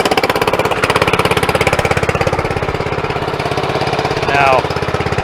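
A dragged-out project vehicle's engine runs with an added aftermarket muffler, loud and close, with a rapid, steady pulsing chug throughout and a brief rise in intensity near the end.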